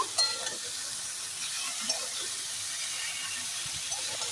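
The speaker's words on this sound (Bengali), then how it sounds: "এবার একটু কষিয়ে নেব" Ginger and green chilli paste sautés in a pan for a Bengali lentil dish, giving a soft, steady sizzle with a few faint stirring clicks.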